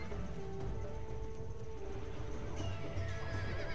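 A warhorse whinnies during a siege battle in the video game Medieval II: Total War, rising briefly over a constant roar of combat noise and distant clatter.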